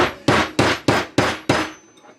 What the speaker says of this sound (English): All I'm going to do is just use a nylon hammer or whatever you have available to you.